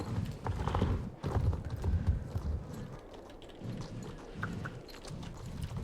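Hooves clip-clop in a quick, uneven rhythm as a horse moves in the video game Star Stable Online, with occasional soft whinny-like sounds mixed in.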